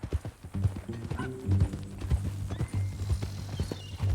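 Horse hooves clip-clop in Red Dead Redemption 2, a brisk irregular series of close, soft thuds with a brief whinny near the start and low rumbling beneath.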